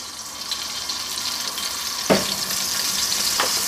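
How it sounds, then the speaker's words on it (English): Bacon sizzles steadily in oil in a pan, a close continuous hiss with a couple of brief clinks or stirring knocks; no voices. "we just want to cook the bacon until it starts to get a little bit of colour"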